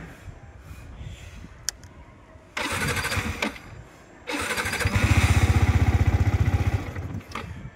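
A Yamaha MT-15 motorcycle with a throttle problem cranks with two starter attempts, then catches and runs with a loud, rapid, throbbing idle close by.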